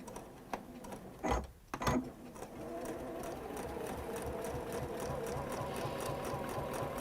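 A sewing machine chain pieces fabric, starting after a couple of sharp clunks and then running at a steady, continuous mechanical whir, close and fairly quiet, with no talking.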